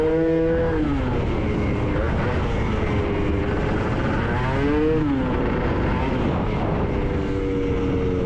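A Gilera Runner 180cc scooter with a Malossi exhaust and 28mm carburetor revs hard and accelerates, its buzzing two-stroke engine rising and falling in pitch through several surges, loud and close without a break.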